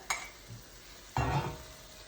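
Steak in sauce browning in an enameled cast iron pan: a quick stir scrape, then a louder burst of sizzling that slowly fades.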